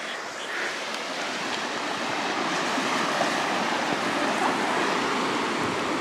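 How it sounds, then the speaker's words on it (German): Steady broadband wash of sea surf breaking on a sandy beach, continuous and fairly close, without gaps or talk. "Ich stehe im Sand, am Meer."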